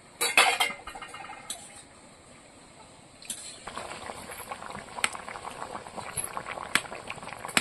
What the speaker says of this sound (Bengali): এবার তরকারিটা ঢাকা খুলে নেব